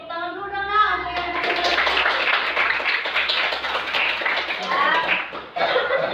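Schoolchildren in a classroom clap together in a dense burst of applause under a teacher's voice, with young voices chattering throughout.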